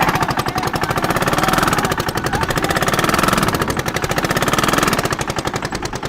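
A tractor engine pounds in a fast, steady, loud chugging rhythm at close range during a tractor-versus-people tug of war, running alone without talk.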